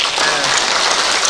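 Audience at a Korean maritime literature festival symposium applauding, a brief, loud, dense patter of many hands clapping that fills the room evenly.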